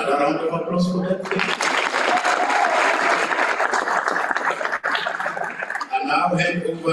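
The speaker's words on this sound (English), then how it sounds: "Another round of applause for that." Many hands clap at a graduation ceremony in a full, even burst lasting several seconds, with a speaker talking just before it starts and again as it fades out.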